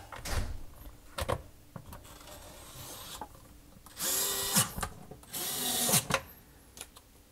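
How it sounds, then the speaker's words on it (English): Screws being driven back into a KitchenAid dishwasher panel during a repair, heard as several short bursts of a power driver separated by pauses, with clicks and rubbing of the panel between them; no one talks. "then you screw back the other screws"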